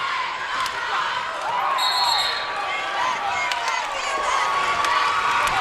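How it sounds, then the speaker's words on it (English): High school basketball fans in a gym yell and scream steadily for a foul, a loud crowd roar with whistling and shouts, while a ball bounces on the court and sneakers squeak faintly. "Some of these fans screaming for a foul."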